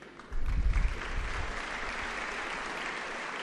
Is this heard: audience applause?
yes